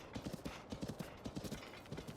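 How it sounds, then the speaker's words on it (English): Horse hooves clip-clopping at a quick gallop in the video game Tears of the Kingdom, a steady rapid rhythm of hoofbeats up close with a faint whinny, no talking. "Took the horse to the edge of the cliff."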